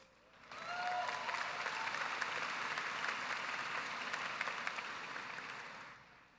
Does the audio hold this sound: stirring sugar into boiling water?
no